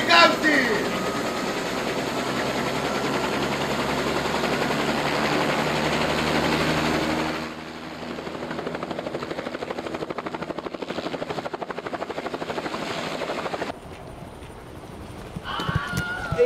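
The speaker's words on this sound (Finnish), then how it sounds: "No niin, helikopteri käyntiin!" A helicopter close by gives a loud, steady rhythmic chopping that runs for several seconds, then drops in level and shifts to a lighter, faster beat before cutting off.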